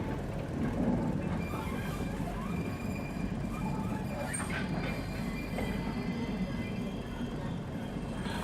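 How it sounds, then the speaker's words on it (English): A model Class 40 diesel train runs along a model railway track with a steady rolling rumble, light rail clatter and faint wheel squeal, moderately close and continuous. "At the same time, the Class 40 passes by,"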